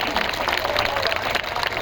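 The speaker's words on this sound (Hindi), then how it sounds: "एक बार जोरदार ताली बजा के स्वागत करी।" Dense, steady clapping from a crowd at a political gathering, loud and close, with voices mixed into the applause.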